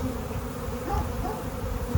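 A dense, steady drone of many bees buzzing close by around a hive entrance, a continuous swarm hum with no talking, bees congregating and fanning.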